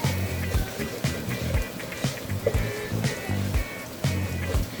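Hot cooking oil crackles and spatters in a pan after water is added, giving uneven bursts of sizzling pops across the clip with no one talking.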